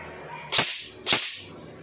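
An EC 312 CQB airsoft rifle test fired on semi-auto: two sharp, snappy shots about half a second apart, each a crisp crack with a short tail, close and loud over a quiet background.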